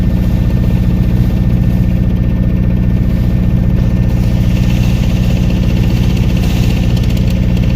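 A Coates Hire MS2000-PD diesel lighting plant runs steadily up close, its engine thrumming loud and even with a constant low pulsing rumble and no voices.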